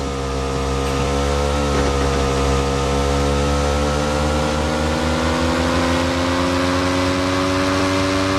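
A vehicle engine in the battle royale game PUBG drones steadily and close up, a continuous mid-pitched hum with layered harmonic tones that holds throughout without pause.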